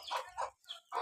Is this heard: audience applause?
no